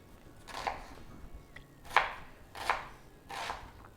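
A knife chopping vegetables on a cutting board for a vegan mushroom wellington, four crisp evenly spaced chops close up in a quiet kitchen.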